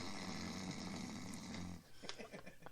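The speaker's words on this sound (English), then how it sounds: "gonna snore into a microphone for the next 20 minutes" A person snores loudly and steadily into a close microphone during a live radio show, with rough rhythmic breaths filling the first two seconds before the sound drops to quieter, scattered noises.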